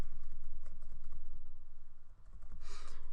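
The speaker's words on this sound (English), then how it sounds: "Sorry if you can hear the keyboard a little bit," Computer keyboard keys clack in quick, uneven bursts close to the microphone, with a steady low hum underneath and a brighter flurry of keystrokes near the end.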